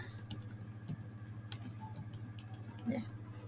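Quiet typing on a computer keyboard, a few scattered soft key clicks over a low steady hum, faint and close.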